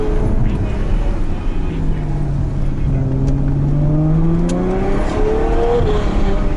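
A Ferrari 812 Superfast engine revs hard and close on a mountain pass descent, its pitch climbing and dropping through quick gear changes over a steady road roar.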